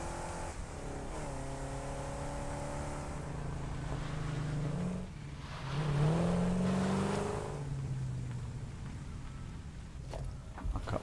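An Explorer vehicle in the Satisfactory game drives downhill, its engine a steady droning hum that rises and falls in pitch as it revs, with no voices over it.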